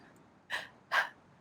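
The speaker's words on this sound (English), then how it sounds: "we take very shallow breaths" Two quick, shallow breaths are drawn through the mouth close up, each a short airy rush separated by a brief pause in an otherwise quiet room.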